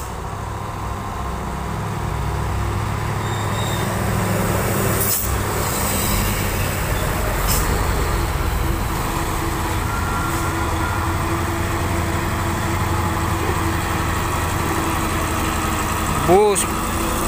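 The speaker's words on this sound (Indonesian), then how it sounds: "Di sana truk Puso Orange yang akan mendaki tanjakan," Orange Hino truck engine idling before climbing a steep hill, a steady low diesel rumble running throughout with traffic nearby, a brief hiss near the end, and faint voices underneath.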